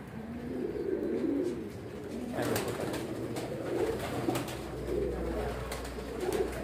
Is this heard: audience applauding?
no